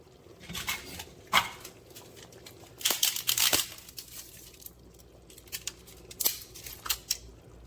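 Dry lasagna noodles snapped into pieces by hand over a pot for lasagna soup, giving scattered crisp cracks and crinkly breaks, a few louder snaps among quieter crackling, close and without talk.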